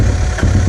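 Honda TRX 200sx ATV engine running steadily with a low, throbbing idle, close and loud, with a brief dip midway.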